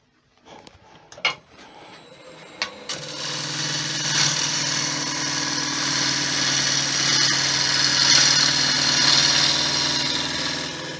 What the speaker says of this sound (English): even at that height, the gouge is cutting lovely